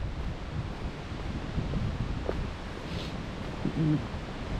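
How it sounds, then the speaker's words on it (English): Wind blows on a trail during an Appalachian Trail hike in Maryland, a steady broadband rush of wind noise hitting the microphone with brief gusts and faint rustling, plus a few faint voices in the background. "Still pretty breezy."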